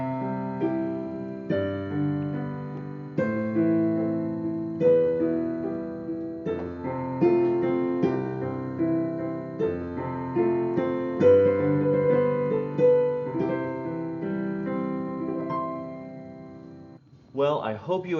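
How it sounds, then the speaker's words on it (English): Piano chords step through the Canon in D progression, each sustained chord struck in a slow, even rhythm and ringing into the next, played close and clear with no voices over it. "But this is the progression for canon in D, and it would sound something like this."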